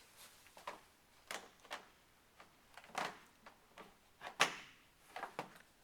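A plastic access door of an Aerobin compost bin slides into place with a series of quiet scraping slides and sharp clicks and knocks, close by and spaced irregularly.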